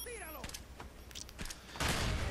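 Video game gunfire in a team deathmatch: a few quick sharp shots scattered across the moment, followed by a louder burst of crackling fire, all fairly faint and distant.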